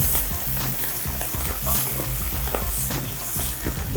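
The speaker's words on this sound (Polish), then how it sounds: "Smażę go w kawałku, a, a nie pokrojonego na drobno" Steady loud sizzling and crackling of a whole piece of chicken frying in a hot pan, continuous with occasional spits and pops.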